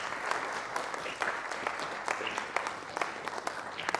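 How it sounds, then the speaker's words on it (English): An audience applauding a student at a motivational talk, steady clapping from many hands with a few sharper individual claps standing out, filling the room. "So please, a round of applause to our next architect"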